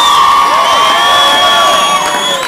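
At the American Royal barbecue competition, a large crowd cheers and whoops loudly and continuously, with high shouted voices ringing over a dense, near wall of noise.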